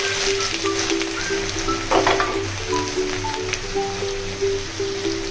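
Grated ginger and garlic hit hot oil in a pan and sizzle steadily, a dense crackling hiss under a faint tonal background.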